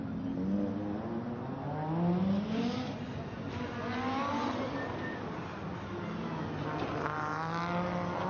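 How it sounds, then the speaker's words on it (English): An Audi Quattro five-cylinder rally car at a Goodwood rally super special, its engine note rising and falling through gear changes, steady and moderately distant. "Makes that oh so distinctive 5-cylinder Quattro noise."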